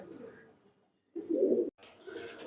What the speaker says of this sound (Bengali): আমাদের উড়ানোর দাপিতে কয়েকটা কবুতর রাখছিলাম উড়ানোর জন্য